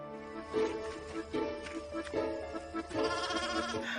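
Young goat bleating repeatedly in a few wavering calls, fairly close and clear, standing out over a low background.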